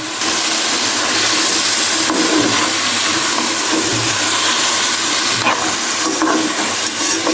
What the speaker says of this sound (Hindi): तो ये भी इसमें डालेंगे ताकि साथ ही ये भी मटर भी भून जाए इससे।